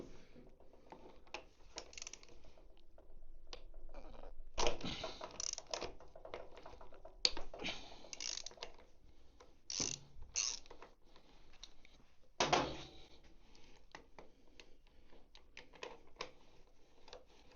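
A ratchet or wrench loosens the 14mm brake caliper bolts on a Triumph motorcycle. The faint metallic clicking comes in quick runs, broken by a few louder clunks and short pauses.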